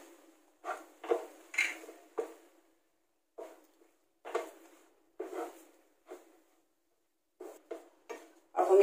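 A spoon scrapes and clinks against a pan as roasted coconut powder is stirred over a flame for coconut laddoos, in short irregular strokes separated by brief silences, close and fairly quiet.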